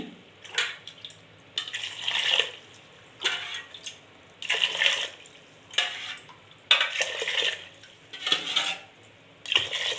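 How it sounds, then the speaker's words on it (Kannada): Repeated bursts of water being poured into a metal pressure cooker, each a few seconds long with short pauses between, splashing against the pot, close by. "ನೀರು ಹಾಕ್ಕೊಳ್ತಾ ಇದ್ದೀನಿ"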